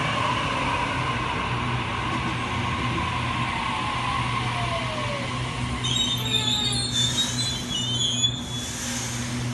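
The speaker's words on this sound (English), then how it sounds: "A64 now departing platform number 1, Central Service" Sydney suburban train pulling away from the platform at Yennora station, a low steady rumble with rising motor whine and sharp wheel squeals toward the end, fairly close.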